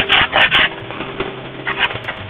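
Sandpaper rubbed over a workpiece while a light box is being built, heard as three quick close rasping strokes at the start, then two more after a pause, with no talking.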